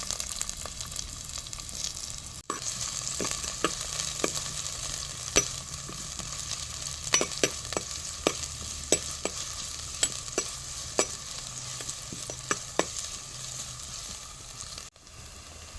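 Onion sizzles steadily in hot oil in a pan for a fish curry, a soft continuous frying hiss broken by scattered clicks of a spoon stirring, with no talking.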